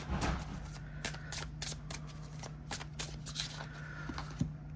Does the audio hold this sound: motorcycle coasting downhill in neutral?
no